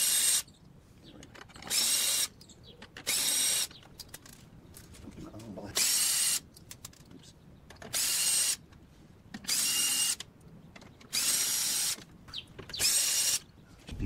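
Power drill repeatedly removing screws from a 2016 Golf R MK7 during an APR intercooler install, about seven separate whirring bursts of one to two seconds each, close and loud, with quiet handling noise between them.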